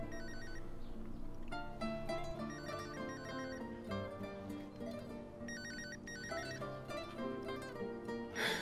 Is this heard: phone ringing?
yes